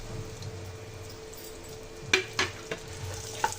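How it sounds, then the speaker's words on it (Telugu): Chopped dry fruits fry in homemade ghee in a thick pan over a medium flame, giving a steady soft sizzle broken by a few sharp clinks and scrapes of stirring near the end. "కొంచెంసేపు ఫ్రై చేసుకుందాం"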